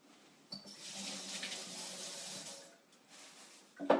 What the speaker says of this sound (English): I just got to wash my celery.